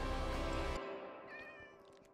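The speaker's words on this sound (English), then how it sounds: "No, don't throw my cat." A cat meows in the Minecraft video game, a loud sustained meow that cuts off sharply and is followed by fainter higher mews, with no voices.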